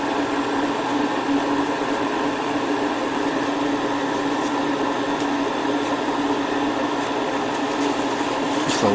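Continuous whirring drone of a power tool buffing an Alclad 2 paint finish, steady and fairly loud throughout with no talk, cutting off abruptly at the end.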